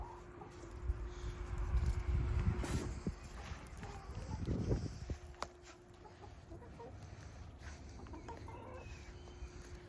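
Newly bought hens clucking in a poultry yard, steady calls over a rumbling outdoor background that is louder early on. A voice comes in now and then.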